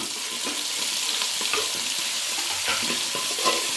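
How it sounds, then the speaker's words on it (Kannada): Onions and mint leaves sizzle steadily in a hot pan for a goat head curry, with a constant bright hiss and occasional soft stirring scrapes, close and alone. "ಈ ರೀತಿ ಈರುಳ್ಳಿ ಹಾಗೆ ಪುದೀನ ಸೊಪ್ಪನ್ನ ಚೆನ್ನಾಗಿ ಫ್ರೈ ಮಾಡ್ಕೊಂಡೆ"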